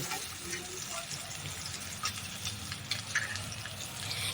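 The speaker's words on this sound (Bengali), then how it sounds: "এভাবে আমি সব মাছগুলোকে এখন ভেজে নেব।" Tangra fish fry in hot oil in a pan, a moderate, steady sizzle with brief crackles and spits scattered over a low background hum.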